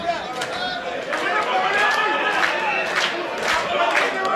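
Crowd at a PWG professional wrestling show cheering for Marty Scurll, a dense, steady roar of voices and shouts with bursts of louder cheering throughout.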